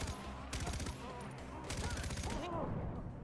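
Minigun fire in the Far Cry 4 video game rattles in rapid continuous bursts, with dense gunfire and explosions filling the mix while someone talks over it.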